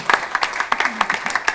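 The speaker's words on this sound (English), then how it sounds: "maybe a round of applause then to our panel, our rotating panel" Brief scattered applause from a conference audience, a handful of distinct claps close together over a second or so, fairly near and light.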